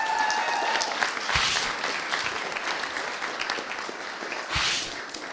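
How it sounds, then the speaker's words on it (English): Audience at a sales talk applauding a speaker from Demandbase, a full, steady round of clapping from a crowd that holds at even loudness throughout, with no voices over it. "can we have a big round of applause for Lewis from Demandbase?"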